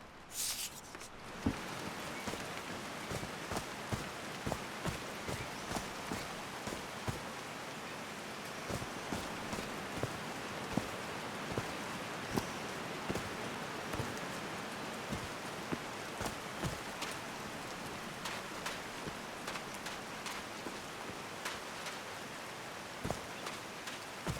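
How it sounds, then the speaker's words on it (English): Video game rain (Call of the Sea) falling steadily on a surface, a continuous hiss with scattered individual drops tapping throughout, no voices. "These drops of rain are so refreshing."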